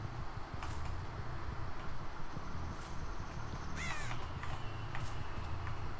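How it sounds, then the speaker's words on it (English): Crows caw in the Dead by Daylight video game, a couple of harsh calls rising out of a steady low ambient rumble, moderately distant and fairly faint. "Oh, crows?"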